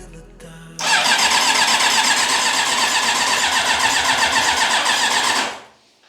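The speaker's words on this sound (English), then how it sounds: "This would then mean we could try and start the bike again." A Yamaha YZF1000R Thunderace motorcycle engine cranks loudly and steadily for about five seconds without catching, then winds down and stops, recorded close up with no speech.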